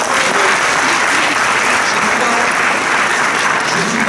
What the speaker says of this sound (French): c'est sympa que vous m'applaudissiez